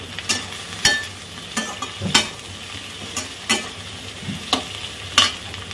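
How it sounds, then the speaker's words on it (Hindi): Sliced okra fries with browned onion in a pan, making a low background sizzle broken by regular scraping strokes of a spatula about every second. The strokes are close and crisp, and no one talks. "स्टीम करके भिंडी कटा है डाल दिए।"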